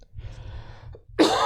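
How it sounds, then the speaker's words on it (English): A single harsh cough bursts out near the mic after a stretch of low murmuring breath and room noise, loud and close at the end. "Another cough."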